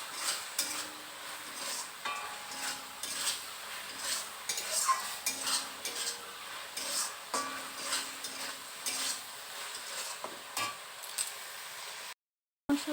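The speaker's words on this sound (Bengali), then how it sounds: "মশলাটা আমি ভেজে নিচ্ছি।" Spices frying in oil while being stirred in a pan for a chicken curry, with repeated scraping and clinking of a utensil against the pan over a low sizzle, steady and close, ending in a brief silence.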